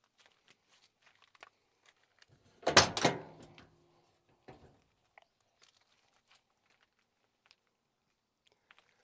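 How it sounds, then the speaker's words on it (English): The door of a vintage 1975 Ford F250 SuperCab pickup truck slams shut with one heavy, solid thunk and a short rattle, near and loud against an otherwise quiet background. "If you guys have never heard a classic vintage Ford door shut, just listen to this."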